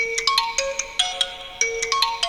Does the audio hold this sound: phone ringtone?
yes